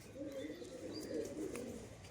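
Domestic pigeons cooing, a faint, low burbling coo rolling on and off nearby, with a few thin chirps above it.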